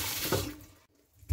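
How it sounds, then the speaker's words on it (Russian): Tap water runs and splashes briefly over beef in a sink, then cuts off abruptly, with a short splash returning at the end. "И мясо я хорошо промываю."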